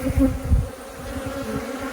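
Honey bees buzz at an occupied hive with a narrow entrance, a close steady drone with a few louder passes near the start.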